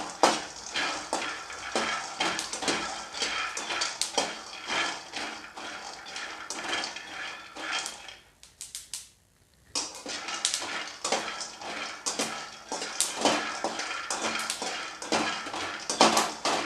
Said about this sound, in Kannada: ಶೇಂಗಾ ಕಣ್ಣು ಬೀಳೋ ಥರ ಹುರ್ಕೋಬೇಕು